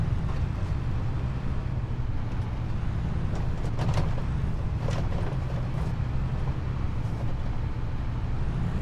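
Steady low engine drone of a tractor driving in the video game Farming Simulator 22, a constant rumble holding throughout with faint clicks and knocks over it.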